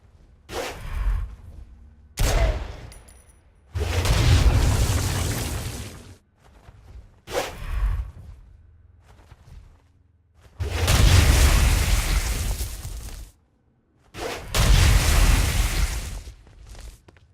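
Explosions and blasts from the video game Saints Row: Gat out of Hell, loud bursts arriving in several separated waves with whooshing, rumbling tails and short quiet gaps between them.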